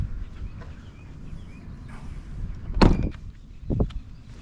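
The fuel door on a Chevrolet Corvette Pratt & Miller C6RS swings shut with one sharp, close click-thud, then a lighter tap follows about a second later against quiet surroundings.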